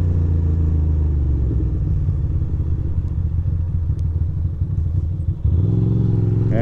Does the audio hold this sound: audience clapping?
no